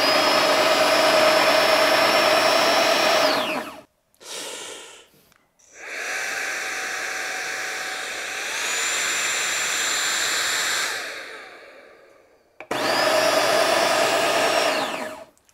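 A coffee grinder running empty with no beans whirs loudly with a high motor whine, stopping briefly, restarting with a shifting pitch, then spinning up again near the end.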